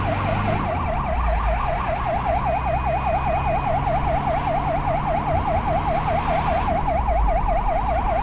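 An ambulance siren wails loud and close without a break, its rapid rising-and-falling tone steady throughout over road noise, during a rescue of people found on a roadside in Chitwan.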